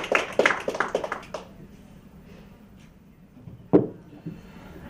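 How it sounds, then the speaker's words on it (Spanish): A short burst of audience applause for the speakers at a talk: a brief cluster of claps in the first second and a half, then quiet room tone with a single sharp knock later on. "un aplauso para, nuestros conferenciantes"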